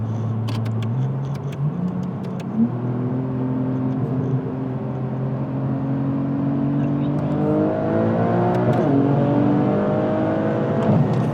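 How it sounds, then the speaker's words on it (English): A powerful 1000HP Porsche 911 Turbo S engine revs up and accelerates steadily, its exhaust note rising in pitch through the gears, loud and continuous throughout. "Can you do a flyby, do a pull real quick for exhaust sound?"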